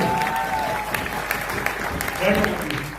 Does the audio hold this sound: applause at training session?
yes